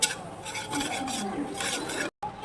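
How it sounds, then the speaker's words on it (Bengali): A spoon stirs gram flour into hot ghee in a pan. A steady, close scraping and swishing continues throughout, with a brief drop to silence near the end. "এবার আমি ওই ঘিয়ের মধ্যেই দিয়ে দেবো এক চা চামচ বেসন ভালো করে নাড়াচাড়া করে মিশিয়ে নেব"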